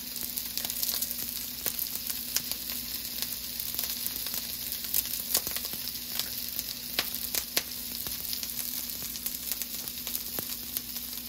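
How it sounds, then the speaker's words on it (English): Onion frying in a pan while mole is made from scratch, a soft, continuous sizzle with scattered small pops and crackles, steady and unaccompanied by talk. "she's gonna asar la cebolla"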